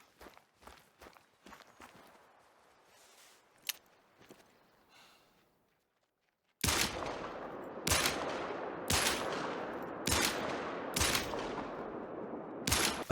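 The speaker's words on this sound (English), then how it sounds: "I shot that moose in a vital organ shot." Hunting-game rifle fire at a moose in The Hunter: Call of the Wild: soft footsteps and scattered clicks early, a brief silence, then a string of loud, sharp, evenly spaced gunshots, roughly one per second, each ringing out.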